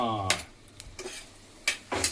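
Whole garlic cloves go into sizzling Gujarati tempering and get stirred, with several crisp spoon scrapes and clinks against the pan over a soft sizzle.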